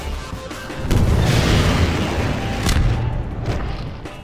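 Rocket launcher fire and blasts in Half-Life 2, a loud sustained rumble of booming explosions with a sharp burst near the end, dense and close.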